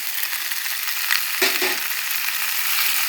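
Shiitake mushroom water poured into a hot pan of stir-frying noodles and vegetables (mee sua), a loud steady hiss and sizzle with a brief splashing burst midway.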